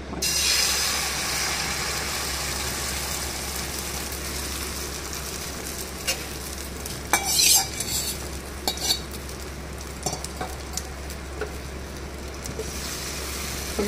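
A bread omelette frying in oil in a pan gives a continuous sizzling hiss under a low steady hum. Occasional utensil scrapes and clinks sound close by, with no one talking.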